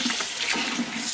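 Water runs steadily from a tap while a vinyl record is rinsed clean of cleaning chemicals, a continuous close, fairly loud splashing hiss with no voices.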